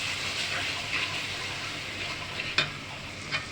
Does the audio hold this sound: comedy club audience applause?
no